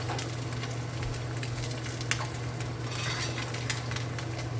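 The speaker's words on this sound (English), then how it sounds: "Put a little salt and pepper on your egg while it's cooking." An egg frying in a pan sizzles in a steady, continuous hiss, with a few faint clinks of utensils, for a breakfast sandwich, and no one speaks.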